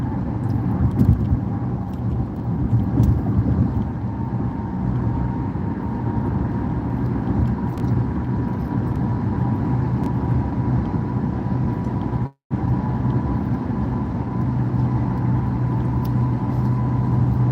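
Steady interior rumble of a car cruising along the I-10 highway in Houston on the way into work, a constant low engine and road drone with no talk and a brief dropout near the end.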